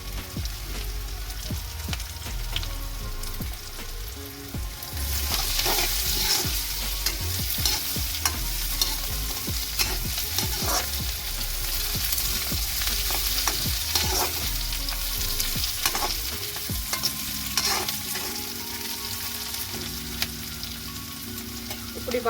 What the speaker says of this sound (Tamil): கருவேப்பிலை எல்லாத்தையும் அதோட சேர்த்து வதக்க போகும்